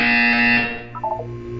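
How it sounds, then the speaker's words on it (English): A loud electronic buzzer from the video game Portal 2 sounds in a single sustained harsh tone for about half a second, then cuts off, leaving a soft musical background with brief tonal blips. "You will hear a buzzer."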